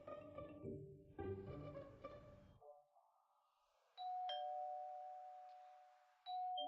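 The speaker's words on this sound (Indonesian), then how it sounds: "Han Xiu ada yang menekan bel pintu." A doorbell chimes twice in a quiet indoor setting, each clear ding-dong tone ringing out and sustaining, following a stretch of soft musical notes with no talking.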